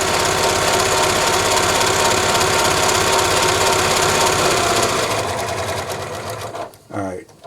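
A Janome Memory Craft 6500P sewing machine runs at a fast, steady stitching rhythm, loud and close, then slows and stops near the end, with a voice briefly heard afterward.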